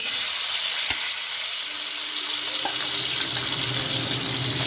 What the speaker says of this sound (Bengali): এবার আলুটাকে কিন্তু ভালোভাবে ভেজে নিতে হবে।